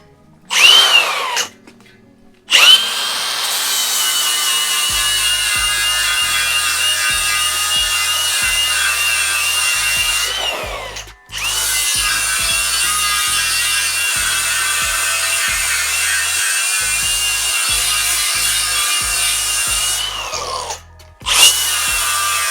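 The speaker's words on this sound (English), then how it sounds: "I want to get this bit of rust with a little heavier grinder" A loud, harsh heavy power grinder whines against rusty metal of an old plow disc in long continuous bursts, briefly stopping and restarting, with rattling scraping underneath.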